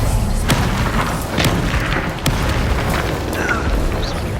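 Confringo and Bombarda spell explosions from Hogwarts Legacy, a dense rumble of deep booms and bursts at close range, with sharper hits near 0.5, 1.5 and 2.3 seconds over continuous low-end roar.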